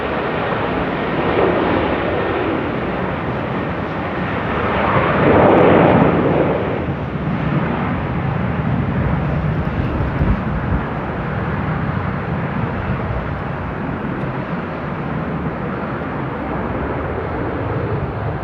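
A jet airplane taking off at Amsterdam Airport on a stormy day, a steady broadband roar that holds throughout and swells briefly near the middle before easing back to a constant rumble, with no talk.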